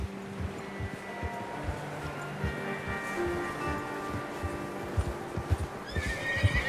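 A horse in the Red Dead Redemption 2 video game whinnies repeatedly over a steady run of clip-clopping hooves, close and clear, with soft ambient rustle beneath.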